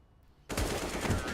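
In CS:GO, gunfire for a headshot bursts in abruptly after a quiet moment, a loud, close, rapid volley that carries on to the end.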